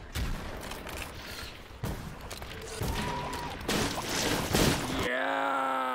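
Gunfire in the indie zombie shooter Barricade, several dense bursts of shots and booms stacking up over about five seconds, loud and close, ending in a sustained tonal game sound.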